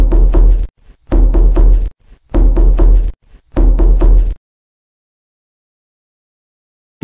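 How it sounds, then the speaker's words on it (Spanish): Knocking on a door comes in four loud, close bursts of rapid raps, each lasting under a second with short gaps between, followed by silence. "Lincoln rápidamente tocó la puerta."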